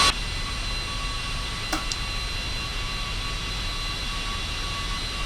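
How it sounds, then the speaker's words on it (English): Jet engines of a Carenado Cessna Citation II in the X-Plane 11 flight simulator keep running with a steady, loud broadband roar and faint whine, unbroken throughout, with a brief click partway through. "Okay, apparently that engine didn't shut down."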